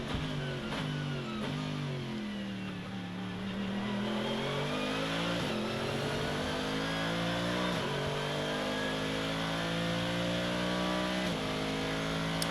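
A GT Masters race car at the Red Bull Ring accelerates through its gears, the loud engine note climbing in pitch, dropping sharply at each upshift and climbing again, several times in succession, with no voices.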